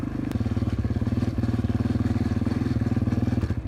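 A dirtbike engine runs loud and close with a fast, even pulsing rhythm while towing two huskies outdoors, holding steady throughout.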